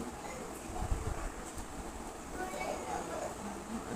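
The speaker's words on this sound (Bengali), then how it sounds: "ট্রেন চলে আসছে আমি ট্রেন ভিডিও করতেছি" A train rumbles steadily closer, a continuous low roar with some clatter filling the air throughout.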